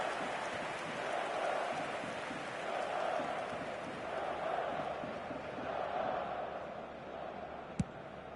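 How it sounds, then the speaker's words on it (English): Stadium crowd in a football video game match, a broad, steady roar of many voices swelling and easing in waves, distant and diffuse, with one sharp click near the end. "the crowd are reacting to that now."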